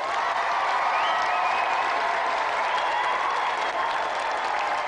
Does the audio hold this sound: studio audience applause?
yes